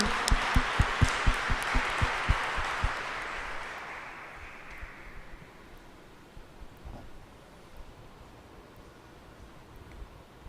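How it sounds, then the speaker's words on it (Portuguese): A church congregation at Sunday Mass claps for the Gospel reading. Loud rhythmic unison claps open the clip, then they loosen into scattered applause that fades to a quiet hall. "Vamos aplaudir a palavra de Deus e do Evangelho."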